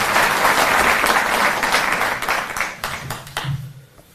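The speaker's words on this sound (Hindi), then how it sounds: "एक बार जोरदार तालियों से।" Loud crowd applause at a Delhi government event for farmers, welcoming the revenue minister to the stage: dense clapping from many hands that carries on strongly, then thins and fades out near the end.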